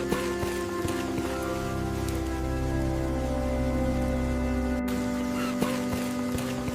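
Steady rain falls in an animated forest, a continuous soft patter under a bed of sustained musical tones and a narrating voice.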